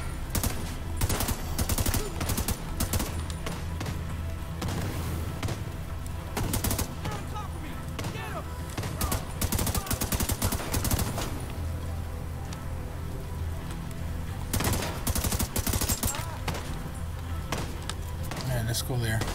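Gunfire in The Division 2, with dense bursts of automatic fire and scattered shots packed through the scene over game music and ambience, loud and busy throughout, with voices talking over parts of it.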